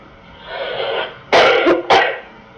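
A person coughs twice in quick succession, sharp and close, after a breathy throat-clearing sound.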